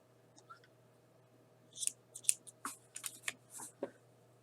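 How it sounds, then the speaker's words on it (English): Scissors snipping knitting yarn at a finished mitered square, a few quiet crisp cuts and rustles close up, faint against a low steady hum. "so I'm going to go ahead and cut my yarn."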